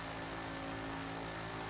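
A Bugatti Chiron's engine in the racing game Forza 7 holds a steady, high-revving drone at top speed, constant and unbroken with no talk over it.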